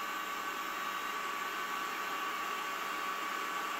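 A turbo barrel cooler fan blows air out of a barrel, a steady, even rushing hiss of moving air with no pauses and no talking.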